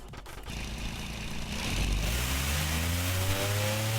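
A video game city car, the Joyota GReat with VTEC, revs up from a rough, tractor-like low rumble into a rising, buzzing whine that holds steady and loud to the end.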